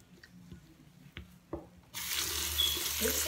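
Water from a tap suddenly gushes into a sink while dirty makeup brushes are washed, preceded by a few soft clicks and handling knocks, steady and close with no talking.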